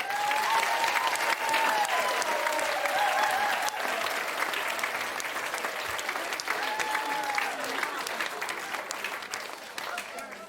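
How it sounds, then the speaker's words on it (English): Sustained applause fills an awards-ceremony hall, a broad, even roar of many hands clapping for ten seconds, with some voices and whoops audible within the crowd. "You give yourselves a round of applause."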